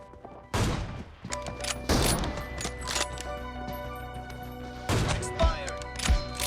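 Gunfire in the video game PUBG: several sharp, loud shots and bursts with ringing tails, separated by short gaps, with game voices and sounds underneath.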